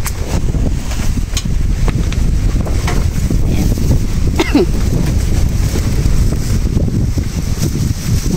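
Strong typhoon wind buffeting an open farm field of string beans, a loud continuous roar with heavy low rumbling and gusty microphone buffeting, with faint rustling and a few brief creaks over it.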